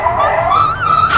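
A dog in the Ratatouille video game on PS3 gives a loud, close, continuous whining whimper with a yipping edge, filling the whole short moment.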